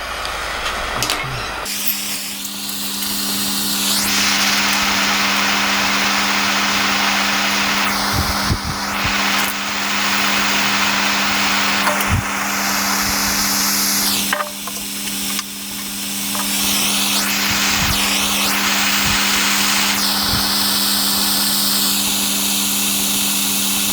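A small propane gas torch hisses and roars steadily while heating a part for soldering a diesel injector return line fitting, a loud continuous close rush with a few brief dips and clicks.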